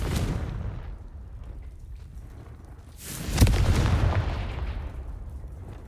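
A Confringo fire curse bursts in Hogwarts Legacy: a sudden loud boom with a sharp crack, followed by a roaring, crackling rumble that lingers for a couple of seconds over a low background hum.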